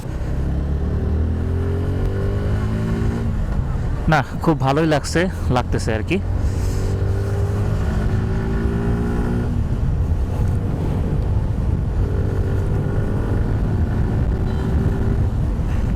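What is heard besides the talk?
motorcycle being ridden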